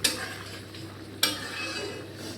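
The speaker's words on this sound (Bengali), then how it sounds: "পুরো জল ফুটছে টকবক করে" Water for a fish curry boils hard in a pot, giving a close, steady bubbling hiss with a sharp clatter at the start and another partway through, heard alone without talking.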